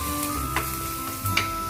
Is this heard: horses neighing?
no